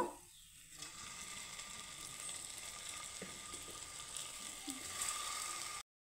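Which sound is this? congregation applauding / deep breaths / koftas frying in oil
koftas frying in oil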